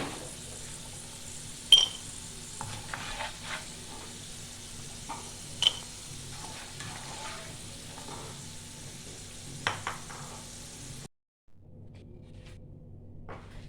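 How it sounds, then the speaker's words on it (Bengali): Baby corn fries in oil in a pan over high flame with a faint, continuous crackling sizzle and occasional sharper pops. The sound cuts out briefly near the end. "এগুলো আবার ভালো করে ভাজা হয়ে গেছে।"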